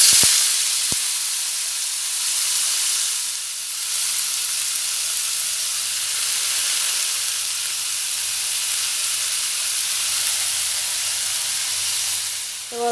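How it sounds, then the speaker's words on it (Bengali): Thin-sliced, washed potatoes fry in hot oil, giving a steady, loud hiss and sizzle that holds evenly throughout, with a faint low hum underneath. "এইভাবে লম্বা লম্বা সরু সরু করে কেটে নেওয়া আলু দিয়ে দেব"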